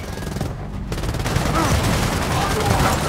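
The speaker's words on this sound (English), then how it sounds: "Incoming fire detected!" Sustained gunfire from a Gears of War 4 firefight, a dense continuous fusillade that stays loud throughout, with game voices mixed in.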